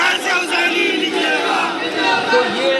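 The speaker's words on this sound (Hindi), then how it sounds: "एक बड़ा प्रोटेस्ट आयतुल्ला ख़मेनी की मौत के बाद लखनऊ में होता हुआ नजर आ रहा है।" Dense crowd of protesters in Lucknow after Khamenei's death, a continuous roar of many voices shouting together, loud and close with no pause throughout.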